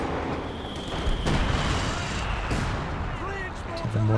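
Howitzer shells land in a Company of Heroes 2 match, heavy booms and explosive thuds breaking through continuous battlefield gunfire, with a commentator talking over the barrage.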